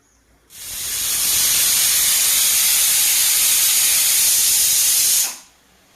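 A loud, steady hiss of steam rushes from a pressure cooker cooking rajma over a medium flame, starting abruptly, holding for several seconds, then cutting off.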